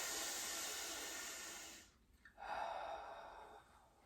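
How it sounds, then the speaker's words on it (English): Close, quiet breathing during a chair yoga relaxation exercise: a long, breathy hiss of air lasting about two seconds, a brief break, then another soft airy breath fading out, with no talk. "Long, slow out breath."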